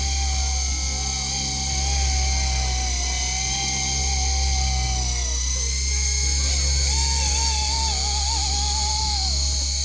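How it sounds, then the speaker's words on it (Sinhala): Servos moving on a Wltoys V911S RC helicopter, close up: short whining tones glide up and down over a constant buzzing motor drone, with a pause in the middle. "මේ සර්වෝස් ටික වැඩ කරනවා"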